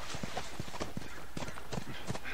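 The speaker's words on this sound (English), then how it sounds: "I'm sick of getting up and down on the horse." Horse hooves clip-clopping in The Last of Us video game, a steady close trot of hollow knocks over a constant background wash.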